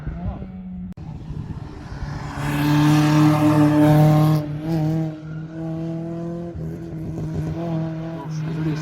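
A GTI 16 tears past at a hill climb race, its engine rising to a loud, high-revving scream and then fading, with people talking nearby.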